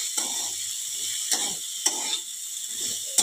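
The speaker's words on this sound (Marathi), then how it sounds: "कोथिंबीर घालून परत एकदा चांगलं परतून घेऊया।" Ridge gourd with chopped coriander is stir-fried in oil, village style, with a bright steady sizzle and intermittent scraping strokes of a spatula against the pan every half second or so.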